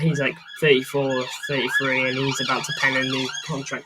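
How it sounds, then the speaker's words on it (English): Emergency vehicle sirens wail outside, a rising and falling tone running under a man's close, continuous talk, audible between and beneath his words. "Apologies for the sirens."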